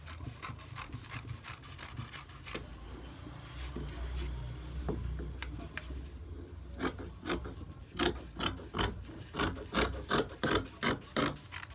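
Scissors snipping through fabric while a bubu gown is cut out from the neckline down, close rhythmic crisp cuts that quicken into a steady run of snips toward the end, with rustling cloth between them.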